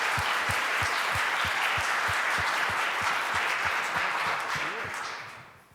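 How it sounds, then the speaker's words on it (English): An audience applauds speakers at a talk on sustainability and food, a full dense round of clapping heard close and loud, steady for several seconds before tapering off at the end. "Round of applause, please, for our speakers."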